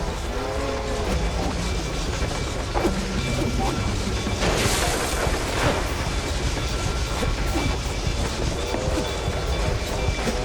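A train rolls past in the Mouse: P.I. For Hire video game, a loud sustained rumble with rattling wagons and a brief crashing burst midway, running steadily from start to finish.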